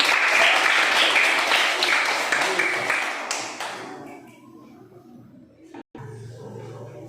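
Schoolchildren in a classroom clap together, a loud burst of applause that thins and fades out over a few seconds, followed by quiet room noise and a single soft knock.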